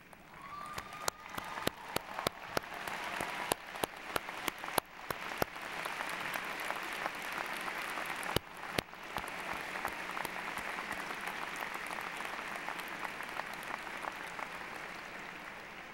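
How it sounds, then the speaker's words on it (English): A graduation audience at a Butler University commencement gives sustained applause, a dense, even wash of many hands with a few sharp nearby claps standing out at the start, continuing steadily throughout. "Let's take a moment to stand up and give them a round of applause"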